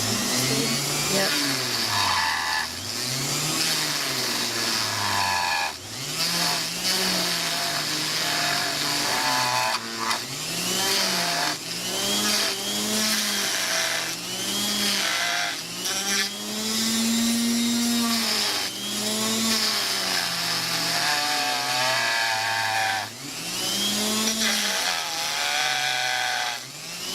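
A Dremel rotary tool fitted with a sanding drum bit whines steadily and loudly while shaping a decorative wall plate, its pitch rising and dipping as the bit is pressed into the work, running almost without pause.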